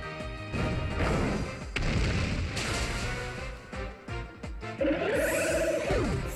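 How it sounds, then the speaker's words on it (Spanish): A fire-type attack explosion from the 3DS game Pokémon X, with dense crashing booms and rumbling blasts layered over game music, loud and continuous, ending in a bright rising chime. "Y pirotecnia para terminar con los fuegos artificiales."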